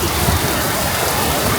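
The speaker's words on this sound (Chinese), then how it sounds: "哇，突降暴雨啊！" Heavy rain pours steadily onto a city street at night during a sudden downpour in Guanlan Ancient Market, Longhua, Shenzhen, a dense, loud, unbroken hiss close by with no voices.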